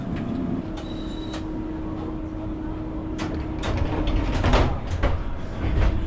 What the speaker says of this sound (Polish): Tramwaj wybudowany w Chorzowie, fabryka Konstalu.